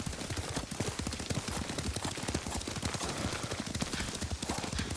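Horse hooves clip-clop steadily at a riding pace in the samurai game Ghost of Tsushima, a dense, continuous rhythm of hoof strikes close up, with faint game ambience around it.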